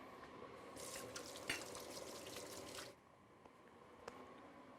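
Kitchen tap runs as hands are washed, a soft splashing stream that cuts off partway through, leaving faint drips, quiet and nearby.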